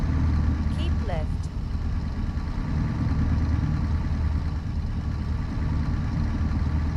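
A new truck engine in American Truck Simulator runs steadily throughout, a low rumbling drone with a gargling tone that stays loud and even, with a few brief background noises partway through.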